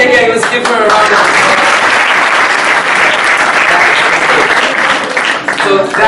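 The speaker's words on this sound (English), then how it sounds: "let's give her a round of" A loud, sustained round of applause from an audience, dense clapping filling the whole stretch at close range, with a voice briefly audible near the start and end.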